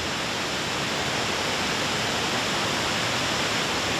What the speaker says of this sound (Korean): 입구를 지나 10여 분쯤 걷다 보면 웅대한 물소리가 고막을 때린다.